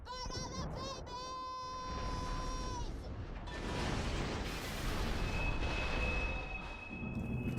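Video game explosions play as a long, muffled rumbling roar with crashing debris, layered with sustained tonal hums and whines, fairly faint and continuous.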